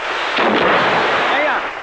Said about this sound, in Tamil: இப்ப வெடி வெடிச்சத அந்த சத்தம் கேட்கலையான்னு கேட்டேன்